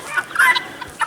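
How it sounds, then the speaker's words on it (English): Black chickens and roosters on a homestead clucking in a quick run of short, close calls, with no talking. "About half of these black chickens, the roosters, I gotta get to butchering pretty soon."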